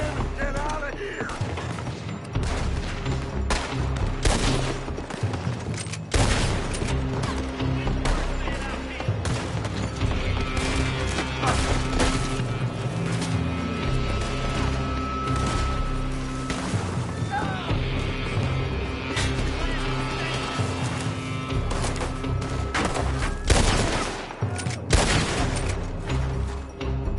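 Gunfire in a Red Dead western game firefight, bursts of shots and crashes spread across a dense, busy mix with music and voices throughout.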